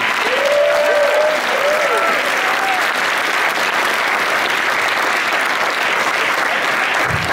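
A room full of people clapping steadily for several seconds, loud and sustained, with a few faint cheers near the start, at an anime convention closing ceremony.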